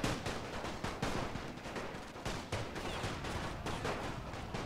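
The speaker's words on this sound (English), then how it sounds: "So we're returning fire from all locations." Troops in the World War I strategy game The Great War returning fire from several positions, a dense, continuous crackle of rifle and machine-gun fire with sharper volleys popping through a steady rattling wash.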